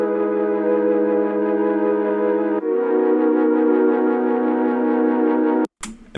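Layered Mellotron chords and wobbly Serum sine chords played together, two long sustained chords with a shimmering, slightly detuned texture, loud and unaccompanied, then a sharp cutoff.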